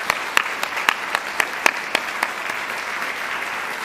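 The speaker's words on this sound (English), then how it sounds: "So one more round of applause for all of our scholarship winners." An audience at a high school scholarship ceremony claps for the winners, a short burst of applause with distinct individual claps standing out in a rhythmic pattern before fading.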